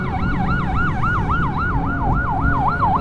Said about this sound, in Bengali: ওই যে অ্যাম্বুলেন্স চলে এসে